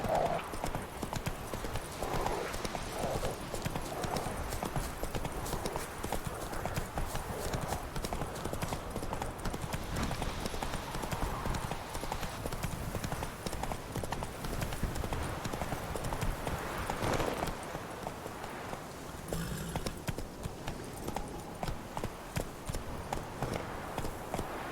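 Roach, the horse in The Witcher 3, gallops with a continuous rapid clip-clop of hooves, near and steady, with occasional snorts and a low game soundscape beneath.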